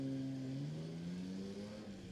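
A vintage car engine runs steadily at a distance, its tone rising gradually as it revs up, faint under outdoor ambience.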